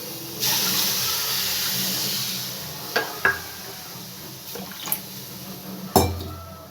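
Water pours steadily into a metal pan already holding a cup of sugar, a continuous splashing hiss with a few sharp metallic clinks near the end.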